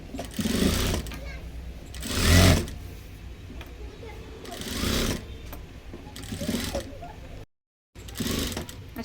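A sewing machine stitches a blouse neckband in short, loud runs of rapid mechanical chatter separated by pauses, with someone talking throughout.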